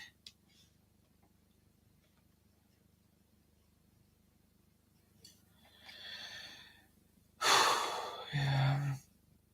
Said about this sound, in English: out of breath already.